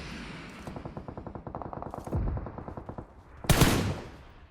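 Automatic gunfire in PUBG Mobile rattles in fast rhythmic bursts, then a louder, sharper blast lands near the end. The shots are close and loud, with no voices.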